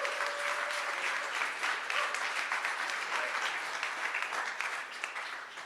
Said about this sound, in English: I want to give a big round of applause for Desiree and all the awesome work that she does